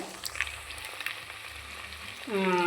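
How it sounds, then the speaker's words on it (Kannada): Vegetables fry with ginger garlic paste in a pan for vegetable ghee rice, giving a soft, even sizzle that continues quietly until a voice begins speaking near the end. "ವೆಜಿಟೇಬಲ್ ಫ್ರೈ ಆಗ್ತಾಯಿದೆ"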